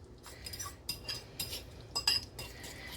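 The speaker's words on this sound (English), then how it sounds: "Make sure you mix that in really well." A spoon stirs cinnamon into apple oatmeal in a bowl, giving a run of light clinks and scrapes of metal against dish, close and quiet, with a few sharper chinks near the end.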